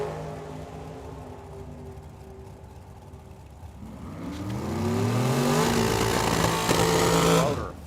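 Drag race launch with a single strut dragster and a Tesla Model 3 at a track, a loud engine rising in pitch as it revs and accelerates away, building over several seconds with an announcer's voice audible beneath.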